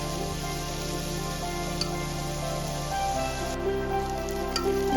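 Onions sizzle steadily in hot oil with a little salt, browning for a Kerala-style mutton stew; a close, continuous frying hiss with faint stirring, no talk.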